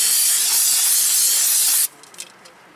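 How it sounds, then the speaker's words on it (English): Brake cleaner aerosol sprays in one loud, continuous hiss onto the front brake hub of a 2017 Honda Civic, cutting off abruptly with a few faint knocks after. "Spray it down with the brake cleaner"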